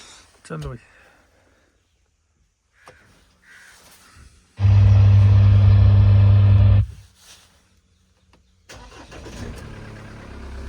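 A car engine cranking and catching on a cold, foggy day, with a loud roughly two-second starting burst followed by a steady running engine, preceded by faint sounds and a crow-like caw.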